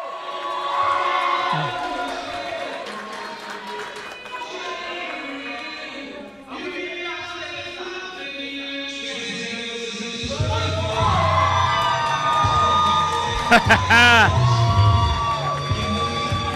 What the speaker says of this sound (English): Crowd is receptive to see Jody.